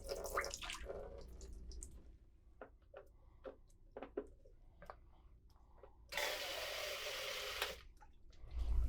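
Housekeeping chemical dispenser running into water, a faint scattered dripping and trickling, then a steady louder rush of flowing liquid for about a second and a half before it cuts off.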